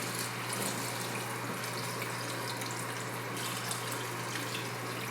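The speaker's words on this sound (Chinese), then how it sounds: "然后加水" Water is poured steadily into a pot of blanched beef brisket and seasoning for a Sichuan-style braise, a close, continuous splashing rush that holds unbroken for several seconds with no talking.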